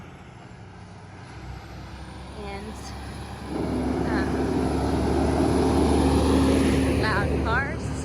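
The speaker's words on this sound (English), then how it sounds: "loud cars" Loud vehicles pass along a street in an Alpine-style mountain town, a heavy engine rumble building midway and holding strong, with brief voices over it.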